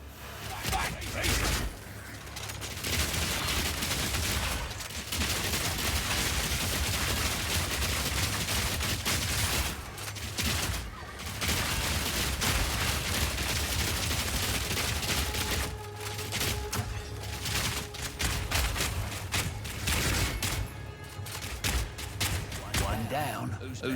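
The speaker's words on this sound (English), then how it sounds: "It's got the sound of like shells hitting the ground after you stop firing." Rapid gunfire from a weapon in the video game Path of Exile 2, dense bursts of shots packed almost without pause, with short gaps and a voice talking over the shooting.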